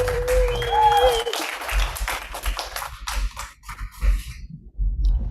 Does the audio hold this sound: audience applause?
yes